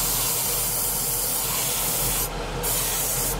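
A continuous, loud spray hiss from an aerosol or airbrush spray painting a model, steady throughout with a brief dip near the end.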